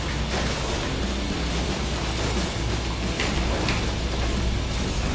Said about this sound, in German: Nehmen wir nochmal römisches Licht dazu.